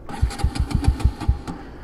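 Bajaj Pulsar RS 200 motorcycle engine cranking repeatedly without catching, a rapid series of about seven chugging starter bursts in a steady rhythm, close and loud, with no talking.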